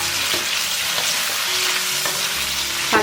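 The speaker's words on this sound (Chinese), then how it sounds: "等它翻炒香。" Duck pieces stir-fry in a hot wok with soy sauce, oyster sauce, salt and sugar, giving a steady close sizzle broken by a few scrapes and clinks of the spatula.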